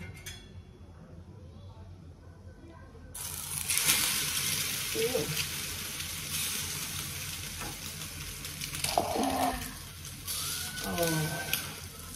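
Ingredients for a quick egg, bread and cheese recipe roasting in a pan, with a soft steady sizzle that swells after a few seconds, occasional utensil clinks and stirring scrapes, and a voice talking over it.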